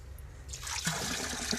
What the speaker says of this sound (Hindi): यहाँ से खोलते हैं, हर जानवर के आगे पानी चला जाता है।